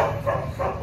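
A dog in Vietnam gives a quick run of loud, close barks toward a passerby, the short yaps coming in rapid succession over under a second.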